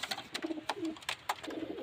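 Low, throaty male pigeon coos repeat in a soft rhythm close by at a pigeon sale in Beldanga, with a few sharper rustles and clicks scattered between them.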